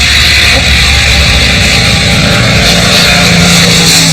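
A Supermarine Spitfire's piston engine roars loudly and continuously as the aircraft flies low overhead, a dense, steady drone filling the whole clip with no speech.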